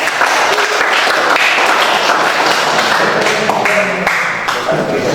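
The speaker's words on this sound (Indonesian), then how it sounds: "kita berikan tepuk tangan untuk kelompok lain" A classroom of students applauds in a loud, close, continuous burst of clapping mixed with scattered taps and thumps on desks.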